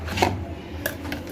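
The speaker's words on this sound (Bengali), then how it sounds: "আদা বাটা নিয়ে নেব।" Fresh ginger being ground into paste, heard as a few sharp, close knocks spaced irregularly over quiet kitchen background.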